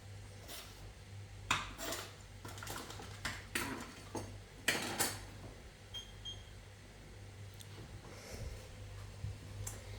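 A kitchen knife cuts a fresh tomato into thin slices on a board, several sharp, separate knocks and squishes spaced irregularly over a steady low hum, fairly close and moderately loud, with no talking.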